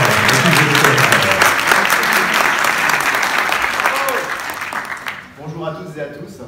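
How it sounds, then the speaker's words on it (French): Loud applause from a cinema audience at a film premiere greets the president of a film association. The clapping is dense and steady, then thins out near the end as a voice begins speaking. "je vous demande d'applaudir bien fort, s'il vous plaît"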